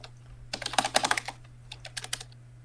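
Rapid typing on a Razer computer keyboard during a live stream, crisp close key clicks in two quick bursts separated by a short pause, with a steady low hum underneath and no voices.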